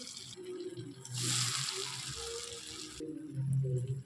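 Water pours into a hot pan (kadai) of spiced oil with black cumin, turmeric and chilli for a parshe fish curry, a close steady rushing splash for about two seconds amid faint kitchen noise.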